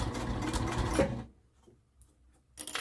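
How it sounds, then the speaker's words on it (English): A sewing machine stitches around an old hot pod in a short, close, rapid whir that stops after about a second. A pause with faint handling follows, then the motor briefly starts again. "keep sewing that till you meet the other end where you started out"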